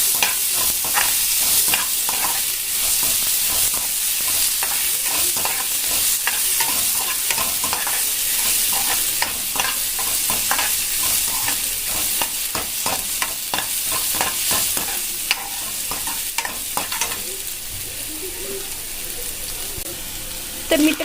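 Finely chopped cabbage is stir-fried in a pan for veg Manchurian soup, making a loud, continuous hiss with repeated scraping stir strokes close by and no talk.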